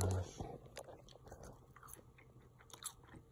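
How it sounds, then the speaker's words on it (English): Crunchy Sonic fast-food french fries being bitten and chewed close to the mic, a few sharp crunches followed by softer wet chewing, quiet and intimate. "So we'll try one of these fries."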